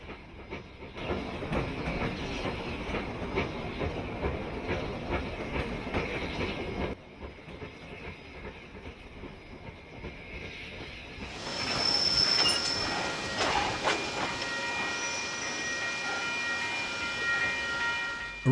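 Steam train in archive footage crossing an old river bridge, a steady rumbling roll of wagons with hissing, shifting partway through to brighter, higher rail noise and faint squeal, continuous and fairly close with no talking.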